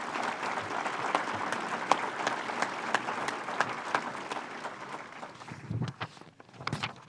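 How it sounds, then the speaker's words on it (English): Applause from an audience at a business development annual meeting, a steady wash of clapping lasting several seconds, fairly distant, with a few louder claps and shuffling near the end. "let's give a round of applause to these 3 wonderful people"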